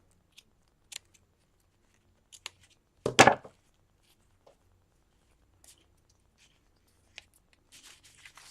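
Scissors snip through paper for a mixed media collage, one short close burst of cutting in an otherwise quiet space, with a few faint taps and rustles scattered around it.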